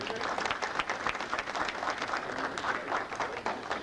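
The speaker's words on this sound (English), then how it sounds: "give them a nice round of applause" Audience applause at an evening event, a steady, fairly soft patter of many hands clapping together throughout, with no voices standing out.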